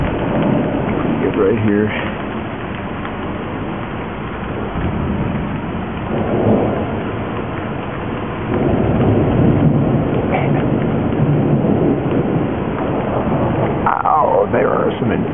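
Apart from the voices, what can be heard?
thunderstorm with rain and thunder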